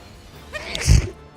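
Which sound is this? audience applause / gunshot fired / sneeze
sneeze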